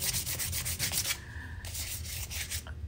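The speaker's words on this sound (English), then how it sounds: "I'm going to lightly sand the surface because I just need a little tooth" Lightly sanding the epoxy-coated surface of a Yeti wine cup by hand, a close, quiet, rhythmic scratchy rubbing in quick back-and-forth strokes with a brief pause midway.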